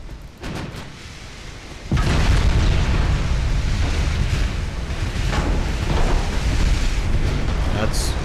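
Battleship guns firing in the naval game UA: Dreadnoughts: quiet at first, then a loud deep boom erupts into sustained rolling thunder of repeated salvos and distant detonations.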